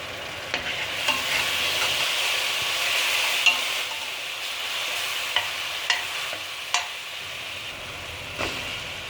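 Potatoes, carrots and parsley stirred into roasted flour in a pot for sheep's head soup: a steady, even sizzle with a few sharp clicks of the spoon scattered through it, close by and without talk.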